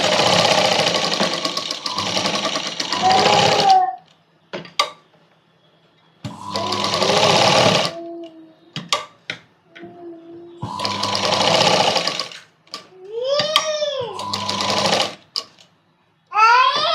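A sewing machine stitches fabric for a kids' night dress in several loud, close bursts of rapid whirring, separated by pauses with short clicks and someone talking between runs.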